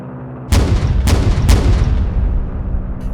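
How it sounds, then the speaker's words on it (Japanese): The 75mm cannon of a Ki-109 fires in a video game: three heavy, close booms roughly half a second apart, each with a sharp crack and a rumbling tail over a low drone. "よし、一発発射してみるか。"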